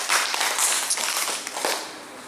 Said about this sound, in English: Can we give a clap offering to our God?